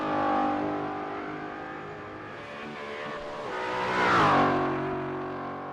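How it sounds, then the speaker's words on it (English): Race cars in a GT4 sim-racing game circle the Oulton Park track, engines revving up and down as one closes in, swells loud and pulls away, alone with no talk. "Cars on track at the moment."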